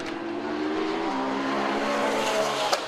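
A Ferrari 458 GT race car overtakes a Lotus Elise at Donington Park, two engines roaring close by with a steady rising whine, tyres scrubbing, and a brief sharp burst near the end.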